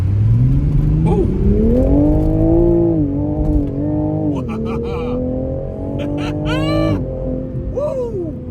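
A 2021 Toyota GR Supra with the 3.0-litre turbo engine revving hard and pulling through rising gears, with a loud, sustained engine drone and brief shift pauses, while excited voices cheer over it.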